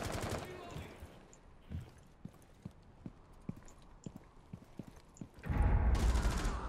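Rainbow Six Siege gunfire crackles in a quick string of sharp, fairly faint shots, spaced irregularly across several seconds, followed by a louder burst of game noise at the end.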